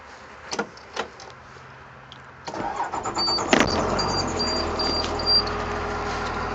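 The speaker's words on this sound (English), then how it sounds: "See, the bus started just fine." Engine of a 2002 Thomas FE school bus starting, with a few clicks first, then the starter cranking and the engine catching into a steady idle close by, with a warning chime beeping over it.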